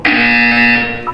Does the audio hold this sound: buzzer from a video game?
yes